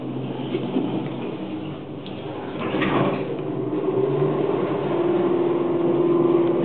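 A 1970s Montgomery G&P elevator runs with a steady, muffled motor drone and a low hum that builds slightly, with a faint door slide in the middle and no talking.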